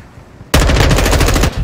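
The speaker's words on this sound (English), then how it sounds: "it's literally just gunshots that are so loud. I assume this is the effect for gunshots" Rapid automatic gunfire in Call of Duty Modern Warfare 2, a loud sustained burst of about a second that begins abruptly after quiet and cuts off sharply.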